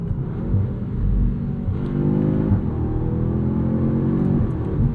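A 2025 Audi S3 with a 328 hp turbocharged engine revs inside the cabin, its steady droning hum rising and falling through the gears, with a faint crackle of burbles on the over-rev.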